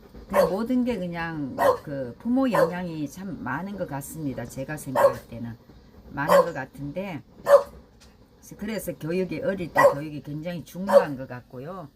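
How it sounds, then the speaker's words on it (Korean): A pet dog awake indoors barks repeatedly in sharp bursts while demanding food, its yaps scattered across a man's continuous, calm speech. "우리 강아지가 짖고 있으니까는 참 뭘 달라고 그러는 거겠죠"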